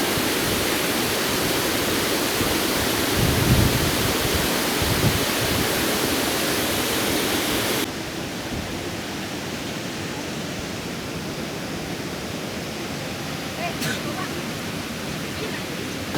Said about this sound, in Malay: first stop dia adalah air terjun Long Wang Hai